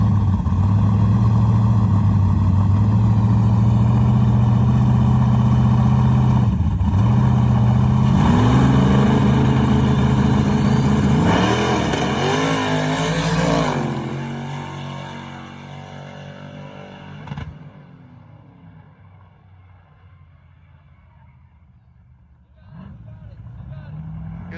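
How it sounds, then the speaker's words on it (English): A drag race between a nitrous Trans Am and a Nissan turbo pickup: loud, close engines roar at a steady drone, rising and shifting pitch before fading off into the distance, with a brief later rumble. "Nitrous Trans Am versus Nissan Turbo Pickup for the finals."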